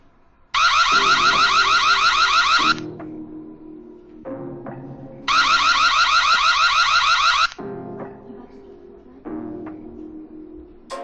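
Reolink Argus Pro wireless security camera sounding its siren alarm: two loud bursts of a warbling electronic siren, each about two seconds, separated by quieter lower tones and beeps.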